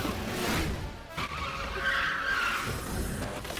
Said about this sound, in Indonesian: Truk itu terus saja nyuruntul melaju dengan kecepatan tinggi, kemudian menabrak bagian belakang mobil yang dikendarai oleh Derry berkali-kali